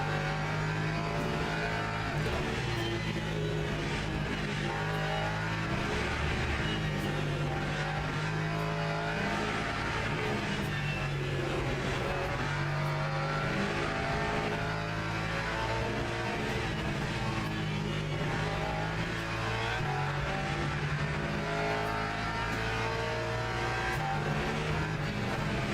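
Hypercar racing engines roar continuously in the Le Mans Ultimate sim racing game at a Qatar event, loud sustained engine drone with revving and passing cars, no talk.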